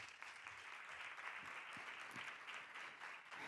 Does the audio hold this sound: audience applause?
yes